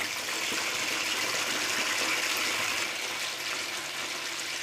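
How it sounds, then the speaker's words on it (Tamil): Sliced eggplant dropped into hot oil in a home kitchen for Tamil ennai kathirikai kulambu, giving a steady, loud, broadband sizzle that holds evenly throughout with no talking. "எண்ணெய் ஊற்றி வச்சு கத்திரிக்காய் போடுறாங்க."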